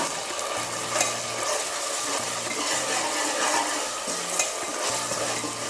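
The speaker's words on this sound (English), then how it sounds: "Add 2 tablespoons of ginger garlic paste. Fry for a minute on high flame." Ginger garlic paste frying on high flame in a pan, a dense steady sizzle with soft stirring scrapes throughout, close and even in level, no speech.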